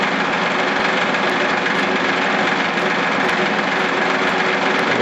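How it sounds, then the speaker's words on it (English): Continuous loud, dense whirr of a milling machine cutting a one-inch metal spacer for a transmission mount, steady with no breaks and no talk. "Got it back on the milling machine. Here's the first run through on this side here."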